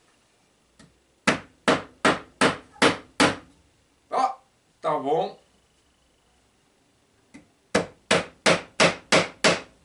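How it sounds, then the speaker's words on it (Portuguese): A hammer drives small nails into a wooden board in two quick runs of about six sharp, evenly spaced blows. A short spoken phrase falls in the pause between the runs. "Pego no martelo."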